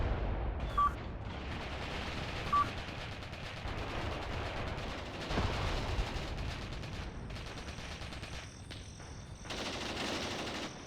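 Sustained machine-gun and rifle fire rattles from a defended farmstead in the WWII tactical game Mius Front, with dense overlapping bursts and a couple of sharper nearby shots throughout, no voices.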